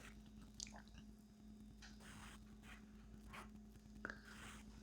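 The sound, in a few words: person chewing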